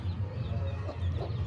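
Aseel chickens cluck softly and steadily over a low, constant background hum, with no voices.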